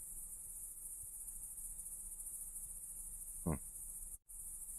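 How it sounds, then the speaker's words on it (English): Steady high-pitched electric-sounding insect buzzing drones throughout, broken by one brief dropout, with a short low thump partway through. "while you can hear the bug noise as well"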